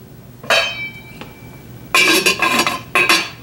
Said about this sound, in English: I'll put the lid on and let that simmer for a little bit